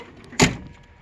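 Door of an old Ford F-150 truck shutting with a single close, solid thump, then quiet.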